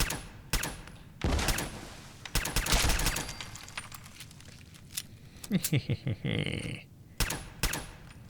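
Pistol gunfire in the video game Fallout 4, sharp shots fired in quick bursts with gaps between, some rapid volleys, mixed with scattered game noises and moments of a voice.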